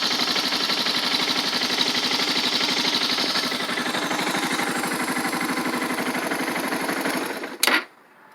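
A 2008 Suzuki DR650 motorcycle idles after a cold start, a loud, steady, rapid thumping engine running close and alone, then cutting off abruptly near the end.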